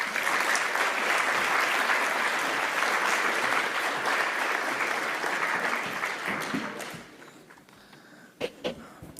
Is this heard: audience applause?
yes